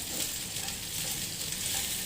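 Spicy chicken pieces frying in a pan, a steady close, dense sizzle with crackling oil running continuously and alone.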